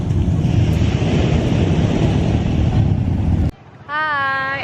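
Ocean waves and wind at a beach in Zambales, a broad steady roar of surf and wind buffeting the microphone that cuts off near the end, followed by a short tonal sound.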